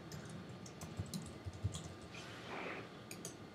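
Fingers tap a computer keyboard while an email address is entered, a run of quick, light, uneven clicks at close range with a few sharper keystrokes, no voices.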